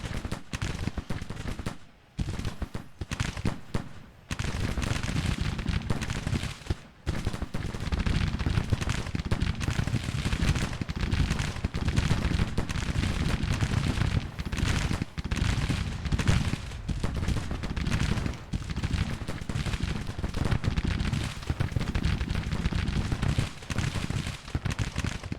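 Sustained rifle volleys from Civil War infantry lines in the strategy game Grand Tactician: The Civil War, a dense, continuous crackle of massed musketry at the battle of Bolivar with little pause, steady and loud throughout.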